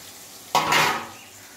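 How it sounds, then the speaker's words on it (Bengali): Pieces of koi fish slid into a pot of boiling curry broth give one sudden burst of hissing sizzle and bubbling that fades over about half a second, heard close and alone. "ঝোল ফুটে গেছে, এখন আমি মাছগুলো ছেড়ে দেবো।"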